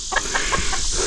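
Backyard chickens cluck in a series of short, evenly spaced calls, close by, over a steady outdoor background hum.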